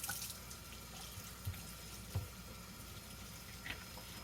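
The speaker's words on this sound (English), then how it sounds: "So now I'm going to rinse with cool water" Cool tap water runs steadily as a dyed fascinator is rinsed at a sink. The faint, continuous stream has a few soft splashes and clunks.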